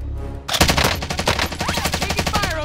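Rapid automatic gunfire in the Warzone video game, loud and close, a sustained burst of dense shots that starts suddenly after a brief lull and rattles on steadily.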